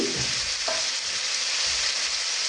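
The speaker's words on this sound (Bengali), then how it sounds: "আলুগুলো আমি জাস্ট ফ্রাই করে নিচ্ছি" Potatoes fry in hot oil that was just used for meat, giving a dense, even sizzle up close with a faint scrape.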